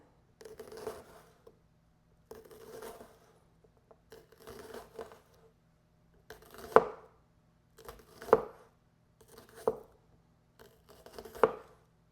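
A very sharp kitchen knife thinly slices food on a cutting board for a gluten-free dinner, giving quiet runs of soft strokes in bursts that become crisper, sharper cuts about once a second toward the end, with no talking.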